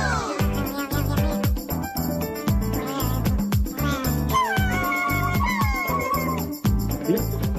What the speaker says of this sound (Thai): แมวรุ่นไหนเนี่ย แมวรุ่นหมา